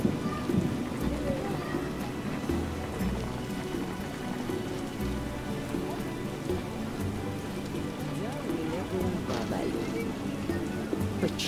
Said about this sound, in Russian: Почему этот дождь должен идти именно сейчас?